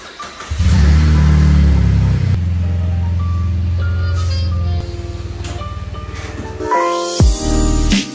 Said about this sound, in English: I'm gonna turn the truck around.